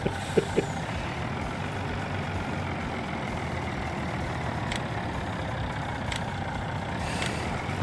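A truck engine in Farming Simulator 19 runs with a steady, low rumbling drone, fairly quiet, with a few faint clicks and brief high ticks scattered over the constant hum.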